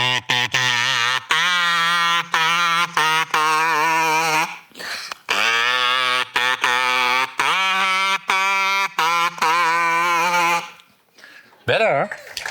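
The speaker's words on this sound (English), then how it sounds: "can we design a kazoo that sounds better? A concert kazoo. 3 membranes" Concert kazoo with three membranes: buzzy, nasal hummed melody in sustained phrases broken by short gaps, wavering with vibrato, close and loud, ending in a brief sliding squeal.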